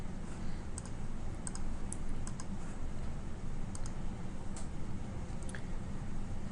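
A computer mouse gives a scattering of small, light clicks in irregular bursts over a steady background hiss.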